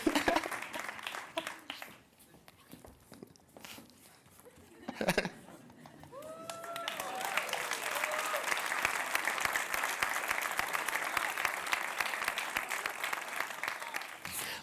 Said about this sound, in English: A big round of applause for our winners, and please step forward for a photograph.